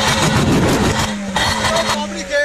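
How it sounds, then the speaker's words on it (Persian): A car engine revved hard at a police traffic stop, a loud, rough roar that peaks and then falls away, with someone talking over it. "گاز بده آقا جان"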